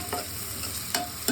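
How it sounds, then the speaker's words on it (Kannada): Onion, bay leaf and whole spices stirred in hot oil for Ambur dum chicken biryani, making a close steady sizzle broken by three quick scraping strokes of a spoon against the pan. "ಆಯಿಲಲ್ಲಿ ಇದು ಚೆನ್ನಾಗಿ ಸ್ಟರ್ ಮಾಡ್ತೀವಿ"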